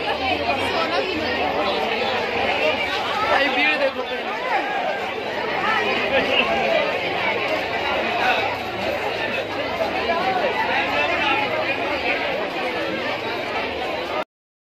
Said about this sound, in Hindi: ये पंडाल देखने की भीड़ है